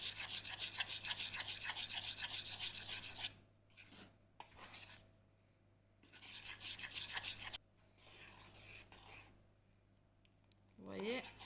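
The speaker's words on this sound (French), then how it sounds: "je délaye petit à petit mon lait" Cold milk is stirred bit by bit into a batter for a rolled sponge cake, the whisk giving close, rasping bursts of scraping with short pauses between them. A brief voice comes in at the end.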